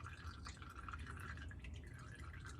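Transfer case fluid from an NP231 in a Jeep Wrangler TJ dripping and trickling into the skid pan while draining, a faint continuous wet patter with no voices.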